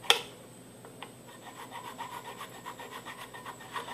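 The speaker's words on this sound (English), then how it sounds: "all I want to do is just file until my file makes contact with the feeler gauges." A small file rasps through a string slot in a guitar nut, filing down toward feeler gauges during string-height setup; close, steady back-and-forth strokes in a quiet room.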